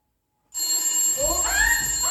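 A mobile phone alarm clock rings suddenly out of silence with a loud, bright electronic tone, followed by rising warbling chirps, continuous and close during a stage play.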